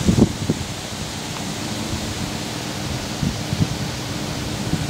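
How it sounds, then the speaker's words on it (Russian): Steady strong wind rushes in a broad, even hiss, with a few soft gusts and knocks, fairly close to the microphone, by Gimolskoye Lake, Karelia. "Вот такой сегодня ветер."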